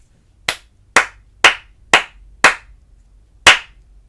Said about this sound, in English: clap it and say it with me